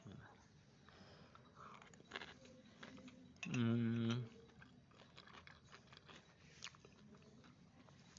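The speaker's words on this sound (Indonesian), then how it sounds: "Mau makan pisang goreng," A fried kepok banana is bitten and chewed, giving one loud, close crunchy burst of under a second amid quiet background talk.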